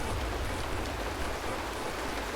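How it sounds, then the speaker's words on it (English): Steady rain falls in the video game Honkai: Star Rail, a dense, even hiss of drops on surfaces with a low rumble underneath, continuous and fairly soft with no voices. "It's raining!"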